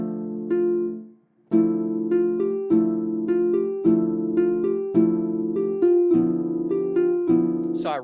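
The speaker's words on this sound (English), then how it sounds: "And I finally came up with this chord progression that sounds something like this." A chord progression played on a Kontakt orchestral plugin, sustained plucked-string-like chords changing in a slow, steady rhythm with one brief gap near the start, clean and upfront with no voices.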